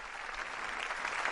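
Distant, even applause rolls steadily from an audience as Pope Francis leaves the stage after a meeting with authorities in Singapore, soft and continuous with no voices over it.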